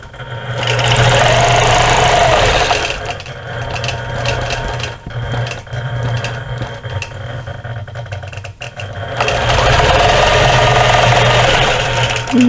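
Home sewing machine stitching a cross-hatch quilting pattern guided by a ruler on a strawberry basket quilt block: a steady, loud motor hum runs throughout, slowing and sputtering in the middle before ramping back up to a full steady whir.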